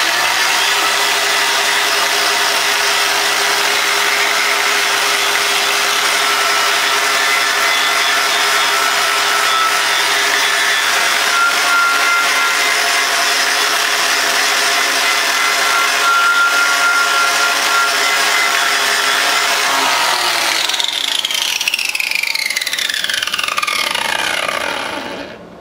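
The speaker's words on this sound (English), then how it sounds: "Now I hit it with a wire wheel and it's cleaned it right up." A wire wheel grinds paint off a part from an Alamo hit-and-miss engine under restoration, a loud continuous abrasive whine that runs steadily before spinning down in a falling tone near the end.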